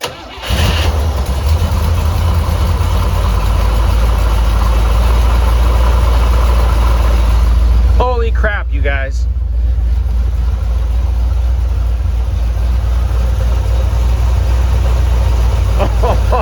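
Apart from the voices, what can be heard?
C3 car engine starting and idling after two years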